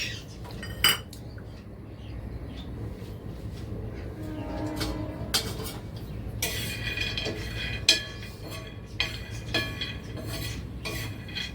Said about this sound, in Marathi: हे बघ तवा तापलाय हे अर्धी वाटी शेंगदाणे घेतले ते शेंगदाणे मी भाजून घेते